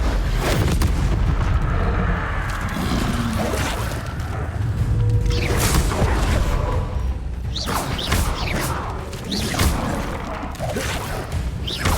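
The Incendio fire spell in Hogwarts Legacy erupts in loud, booming bursts with crackling whooshes, several heavy impacts and blasts layered over continuous combat rumble.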